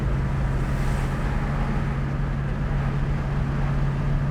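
Steady road and engine drone from a 1966 Ford Mustang with a 289 V8 cruising at about 60 mph, a constant low hum with rumble and wind noise, no talking.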